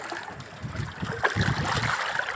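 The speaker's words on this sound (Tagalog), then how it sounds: "malakas na yung alon guys" Ocean waves swelling near a floating cottage, a steady broadband wash of churning water with a slightly stronger surge partway through, heard close and alone.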